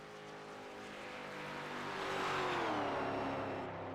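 A NASCAR stock car at the 2004 Pepsi 400 crosses the start-finish line, its engine note swelling as it nears, peaking loud with a falling pitch as it passes, then beginning to fade.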